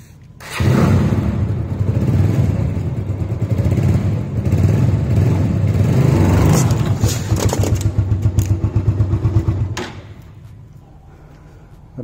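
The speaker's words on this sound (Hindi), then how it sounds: "अब की बार मैंने अपनी बाइक निकाल दी" Motorcycle engine running close by as the bike is ridden over a Mivi Roam 2 Bluetooth speaker, a loud low rumble lasting about nine seconds with clattering bumps, then cutting off into quiet.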